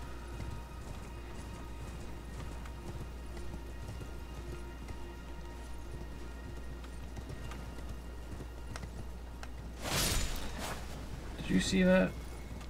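A horse's hooves clatter in a rhythmic clip-clop while riding in the video game Elden Ring, set against steady in-game ambience, with a louder burst of movement near the end and someone speaking briefly.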